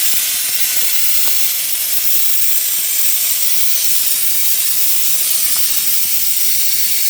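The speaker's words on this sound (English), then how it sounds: "We've just got so much air escaping right away that it turns back on right away." Air escapes from a large 1960s LeRoi air compressor trailer with a loud, constant close hiss and faint low rumbling throughout.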